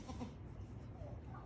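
A goat on a farm gives a faint, short bleat amid quiet outdoor background noise, with other livestock nearby.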